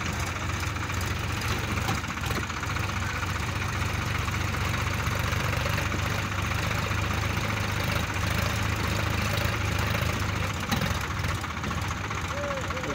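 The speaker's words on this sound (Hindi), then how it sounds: "ट्रैक्टर खींच रहा है।" A Sonalika tractor engine labours under load while pulling near a planted paddy field, a continuous loud, knocking diesel drone close by, with voices talking over it.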